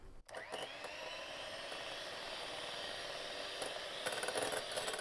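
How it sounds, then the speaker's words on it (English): An electric whisk whips cream toward peaks while sweetener is gradually added, a steady high motor whine with a faint rubbing, churning texture that grows slightly fuller near the end. "I'm going to turn the whisk back on, and I'm going to very gradually add my sweetener whilst whisking"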